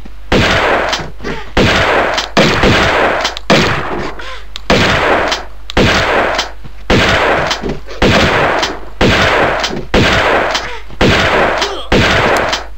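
Gunfire from the final boss wielding two huge guns in the Tomb Raider 2 video game: loud, repeated bursts of rapid shots arrive in regular clusters of about a second each, separated by brief gaps, with no speech.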